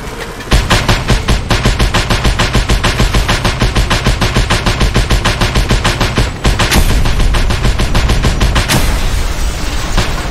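A flak cannon in Just Cause 2 fires in a rapid, relentless stream of loud booming shots for about ten seconds, barely pausing.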